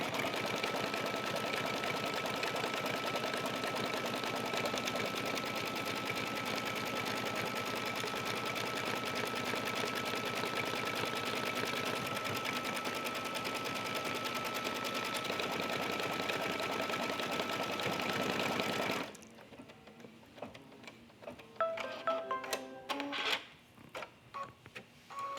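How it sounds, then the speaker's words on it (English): An embroidery sewing machine stitching a cork tote bag in a hoop hums and chatters steadily at close range for most of the stretch, then stops, leaving faint clicks and handling noises. "I'm going to put the hoop back on the machine, and I'm ready to stitch the last step."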